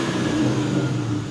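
A Terminator Cobra's engine, fitted with a new intake and exhaust, growls in a short rev with a deep rumbling tone, close and loud, tapering slightly at the end.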